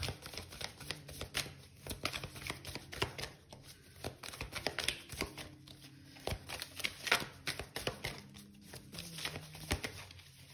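Tarot cards being shuffled by hand, a steady close run of papery riffles and soft slaps lasting several seconds without a break.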